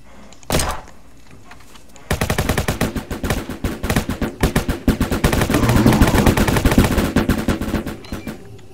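An AK rifle in the Roblox Jailbreak video game fires one sharp shot, then after a pause unleashes a long rapid burst of automatic gunfire that rattles on loudly to the end.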